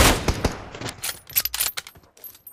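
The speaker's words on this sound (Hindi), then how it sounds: "हम भाई M4 से सिंगल शॉट पे मार रहा हूं" M4 rifle fire in PUBG Mobile on the Miramar map during a competitive match, a burst of sharp gunshots followed by scattered fainter and more distant shots, with no talk.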